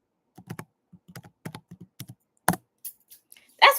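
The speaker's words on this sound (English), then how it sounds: "I'm going to type it in the chat." Keys clatter on a computer keyboard in short irregular bursts of clicks, close and fairly loud in an otherwise quiet room, ending with a louder flurry of strokes.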